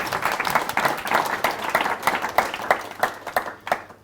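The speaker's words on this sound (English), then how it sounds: "We will give him a round of applause for taking the time out to come and speak to us." An audience at a Startup Grind event in Auckland gives a round of applause for a guest speaker, steady scattered clapping that keeps up for about four seconds with individual claps standing out near the end.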